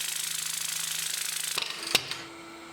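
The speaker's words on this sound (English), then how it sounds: "Back on the lathe for some bouncy sanding and parting the piece from the base." Wood lathe spinning a turned piece during sanding, a rapid steady rattling hum that cuts off abruptly, followed by a sharp knock and a couple of faint taps as the work stops.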